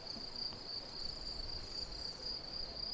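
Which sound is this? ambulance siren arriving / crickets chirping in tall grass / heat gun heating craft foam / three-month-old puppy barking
crickets chirping in tall grass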